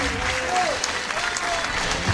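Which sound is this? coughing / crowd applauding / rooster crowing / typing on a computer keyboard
crowd applauding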